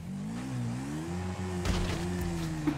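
A video-game motorbike engine holds a steady, close hum that rises slightly in pitch, with a brief rushing burst partway through.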